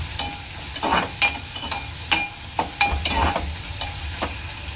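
A spoon stirs prawn kheema with onions in a hot pan, giving repeated sharp scraping strokes in an irregular rhythm over a steady low sizzle, close up and with no talking.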